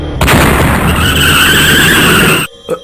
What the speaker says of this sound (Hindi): तभी उनकी गाड़ी का टायर फट जाता है।